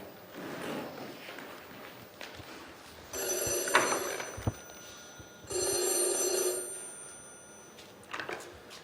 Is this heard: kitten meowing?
no